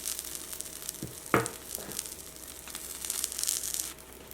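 A vegetable bean quesadilla crisping in oil in a pan gives a quiet, steady sizzle, with a few brief scraping and crinkling touches near the start, close but faint.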